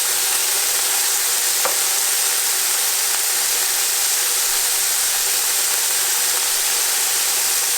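Chickpeas frying in oil in a pan over fairly high heat, a dense, even hiss of sizzling that holds steady throughout with one faint click; close and continuous, no talking.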